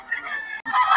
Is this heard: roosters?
yes